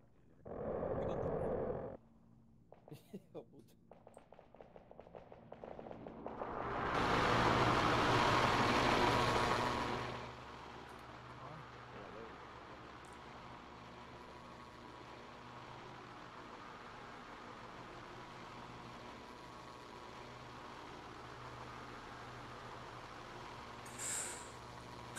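In a video game, a bus releases two loud hissing air-brake bursts, one short and one longer, followed by a low steady engine idle with a faint hiss near the end.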